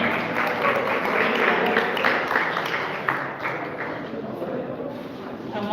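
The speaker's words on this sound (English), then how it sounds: "let's give a round of applause for Ms." Applause from a community audience at an evening candidates' forum, a steady wash of many hands clapping that fades gradually over several seconds, with scattered voices mixed in.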